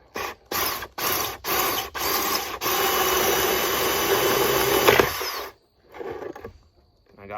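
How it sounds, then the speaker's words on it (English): A power drill bores a hole in a quail feeder, with several short stop-start bursts followed by a long steady whirring run that cuts off near the end. "start my drill up, and then once that pierces, just hold on to the top"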